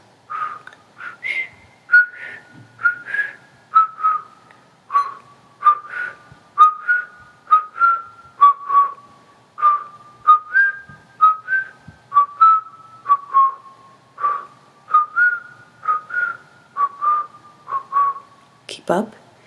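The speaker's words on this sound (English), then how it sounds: "Same mantra with a whistle." A rhythmic mantra is whistled during a kriya yoga practice, about two dozen short melodic whistles in a steady repeating pattern of rising and falling notes, clear and close with no talk over it.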